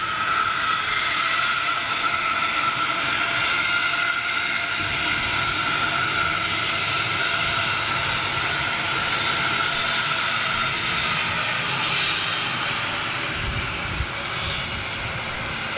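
Large jet airliner engines roar in a loud, steady, continuous wash of broadband noise that holds throughout, with no voices over it.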